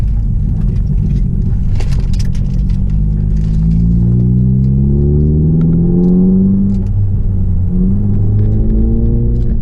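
A 2018 Hyundai Elantra Sport fitted with an aFe Scorcher GT module accelerates at partial throttle, its loud engine drone rising steadily in pitch through several gear sweeps with heavy low rumble from inside the car.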